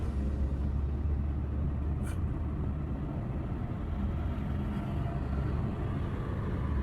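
A Mitsubishi Lancer GSR with a limp-mode fault, its engine driving in gear toward fourth: a steady, close low rumble holds without a clear rev rise or gear-change break, with no talk.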